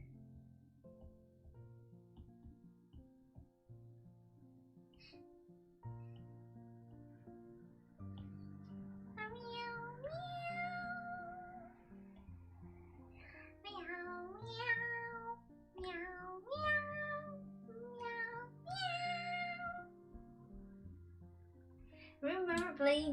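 Repeated cat meows ring out in a series of rising and falling calls, moderately loud, over steady background talk and low hum.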